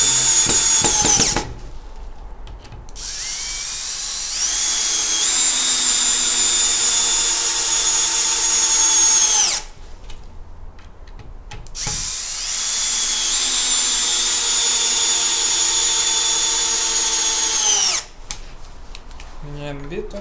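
A Bosch cordless drill/driver drives a screw in two long, steady whirring runs, close and loud, separated by brief pauses, with a short buzz at the start.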